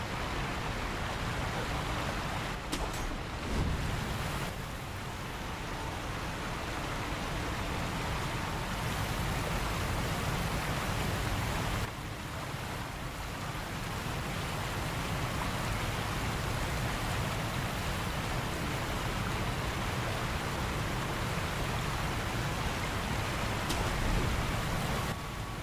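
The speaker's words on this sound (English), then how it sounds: "It's a very localized rain pour." Heavy, localized rain pours in the video game Sekiro, a dense and even hiss of falling water that continues without pause at moderate volume. No one speaks.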